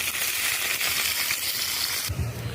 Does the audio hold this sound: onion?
yes